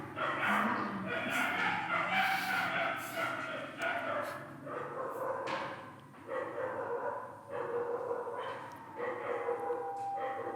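A young dog at a meditation talk gives repeated yips, barks and whimpers, some close and some fainter, with a person speaking at times and thumps in the background.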